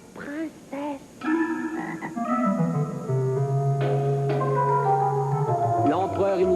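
A frog in a children's tale croaks in several drawn-out, throaty calls, some rising and falling, loud and close, with speech overlapping.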